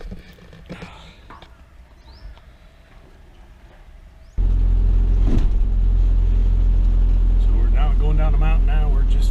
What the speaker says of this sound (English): First gear, idling with the old 4-cylinder diesel.